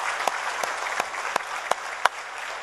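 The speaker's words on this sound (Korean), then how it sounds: "오늘 입교인 된 여러분들을 우리 박수로 한번 축복하겠습니다" A church congregation at an evening service claps together in welcome for new confirmed members, a steady soft patter of many hands with a few sharper claps standing out, moderately distant and fairly brief.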